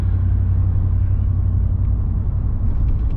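Pickup truck engine idling with an AFM/DFM cylinder-deactivation disabler fitted, a steady low rumble that holds constant throughout, close and fairly loud with no talk.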